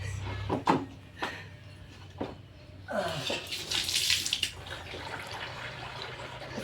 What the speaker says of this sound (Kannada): ಅಡುಗೆಗೆ ನೀರು ಹಿಡಿತಾ ಇದ್ದೀನಿ